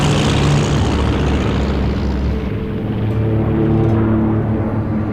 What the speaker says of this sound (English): Oh, it's a seaplane though.